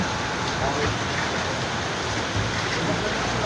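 Steady rain falls at a street corner in a dense, even hiss with no breaks.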